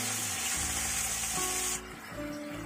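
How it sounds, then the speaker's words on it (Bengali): Chicken pieces sizzle in a pan for a chicken bread roll, a loud continuous frying hiss with low stirring thuds underneath, easing off toward the end. "চিকেনটা দেখো এখানে ভাজা হয়ে গেছে"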